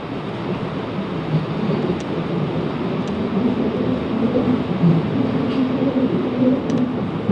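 A South Western Railway Class 707 electric train from London Waterloo towards Chessington South rumbles steadily from inside the carriage, with constant low rolling noise and a few faint clicks from the track.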